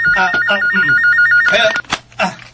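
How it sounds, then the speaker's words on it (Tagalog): A telephone rings loudly with a repeating warbling electronic tone pattern, and voices talk over and between the rings. "Digoy, unsa naman ang telepono"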